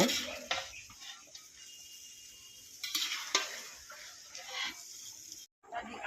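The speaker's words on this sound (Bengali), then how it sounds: "এখন আমরা কড়ার মধ্যে সব রকম সবজি দিয়ে অল্প নাড়াচড়া করে" Vegetables stirred in a kadai for a Bengali mixed-vegetable dish give a scraping, sizzling stir with a few sharper strokes and a background clucking of chickens, steady at moderate level with a brief drop near the end.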